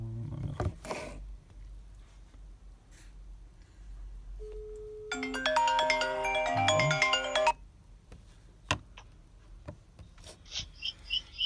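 A phone ringtone sounds during a call connection test, a bright melodic ring lasting a few seconds, close and clear, with quiet handling noise before and after it.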